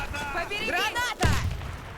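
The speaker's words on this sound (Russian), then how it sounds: "Граната!" A grenade blast in an online team shooter game, a single sharp broadband burst partway through, followed by rumbling decay, with excited voices talking over it.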